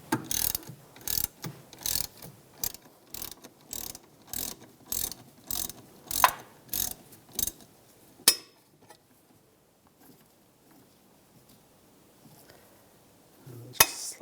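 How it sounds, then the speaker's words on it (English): Ratchet turning a 7mm hex socket on the rear caliper bolts of a 2001-2006 BMW 325Xi, a close run of rapid evenly spaced clicking bursts, then near silence with a couple of faint knocks. "So it's using a 7mm hex socket. We're going to take the two caliper bolts out."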